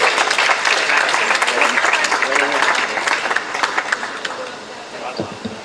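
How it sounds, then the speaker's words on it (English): A crowd at an outdoor refugee health care rally applauds loudly as a guest is welcomed to the stage, the clapping dense at first, then thinning and tapering off, with voices mixed in. "Round of applause, please."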